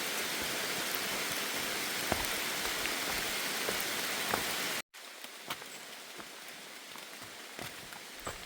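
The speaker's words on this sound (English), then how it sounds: "But you hear it, you see it. This is rain" Rain falls steadily on a wet trail with rocks and roots, a dense, soft hiss with scattered drips, continuing at a lower level after a brief cut.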